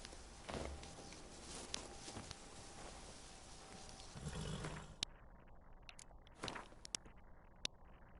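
Horse hooves clopping with a whinny in the Witcher 3 Blood & Wine game, faint scattered hoof thuds and a brief neigh over quiet ambient game sound, with some sharp clicks near the end.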